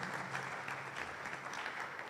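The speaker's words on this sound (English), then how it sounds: "I think that deserves a round of applause for KNUST," Audience applause at a KNUST 70th anniversary college and industry panel discussion: a short, steady burst of many hands clapping at a moderate, fairly distant level, with a low background hum underneath.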